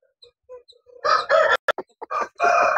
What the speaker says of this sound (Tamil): நல்ல ஆக்டிவா இருக்குது கோழி.